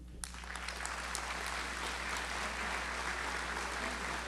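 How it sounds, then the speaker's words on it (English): An audience claps at a high school awards night, a dense, even wash of applause that stays steady from start to finish, with no voices over it. "I want you to give a rousing applause to Mr. Michael Nee."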